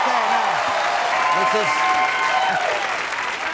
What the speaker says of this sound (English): this is very generous applause